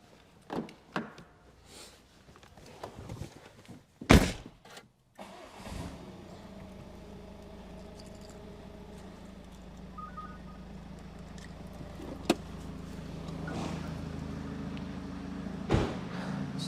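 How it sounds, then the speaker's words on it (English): A Ford Focus ST fitted with an anti-hijack alarm system starts up with a brief cranking burst, then settles into a steady low engine idle that runs on, with a few sharp clicks over it. "So I'm going to start the vehicle up."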